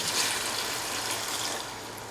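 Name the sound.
pouring water into a cooking pot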